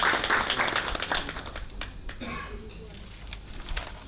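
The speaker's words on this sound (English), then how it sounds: "Can we give Igwe a round of applause, please?" Applause at a formal event as a traditional ruler is welcomed to the high table, clapping strongest at the start and fading over a few seconds, with voices mixed in.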